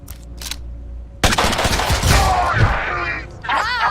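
Video game gunfire in Mutant Year Zero: Road to Eden as a butcher enemy is shot at, a loud burst of shots kicking in partway through, following a quieter start, with mechanical game sounds trailing after.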